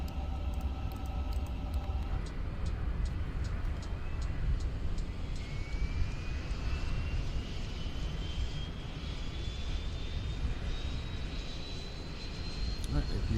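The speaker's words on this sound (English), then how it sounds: "APU spooling up" Auxiliary power unit of an Inibuilds A350-900 in a flight simulator spooling up: a steady low rumble and whoosh with a slowly rising whine, after a few short clicks and tones at the start.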